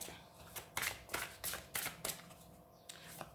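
Tarot cards are shuffled close up in several quick riffling bursts, each a crisp papery flutter, followed by a softer pause and a faint shuffle.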